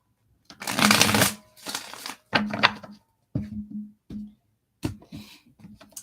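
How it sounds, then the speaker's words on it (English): A deck of tarot cards is shuffled by hand in several short bursts of riffling and sliding, close and clear, with brief pauses between each shuffle. "They don't want to shuffle."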